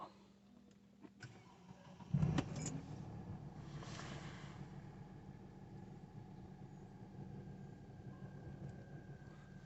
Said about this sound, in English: Now we can go ahead and start the car up.